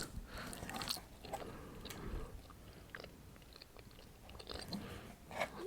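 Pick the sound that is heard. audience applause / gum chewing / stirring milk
gum chewing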